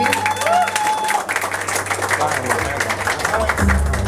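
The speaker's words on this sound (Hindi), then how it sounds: "जोरदार तालियां हो जाए उनके लिए।" Applause with some cheering rises from the crowd at a film trailer launch event as a creative producer is called up, a busy patter of clapping mixed with crowd noise and a faint musical tone, swelling again near the end.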